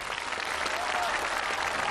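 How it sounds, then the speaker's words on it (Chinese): Steady, dense applause from a studio audience welcoming a group of child Yue opera performers from a Nanjing youth troupe onto a televised opera stage, filling the whole stretch at an even, close level. "我们掌声有请"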